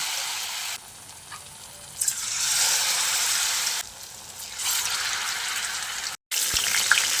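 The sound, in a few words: deep frying ridge gourd flowers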